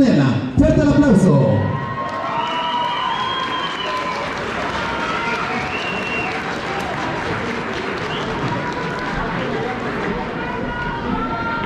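A lively crowd at a performance applauds and cheers, with a loud opening burst of whoops and shouts that settles into steady clapping mixed with crowd babble and scattered voices.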